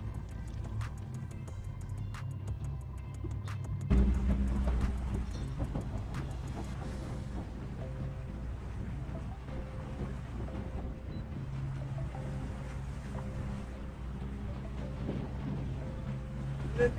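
A small fishing boat's engine, unused for a long while, catches with a low thump partway through and settles into a steady, rumbling idle on the water off Queensland's Sunshine Coast, with light wind noise and no talk.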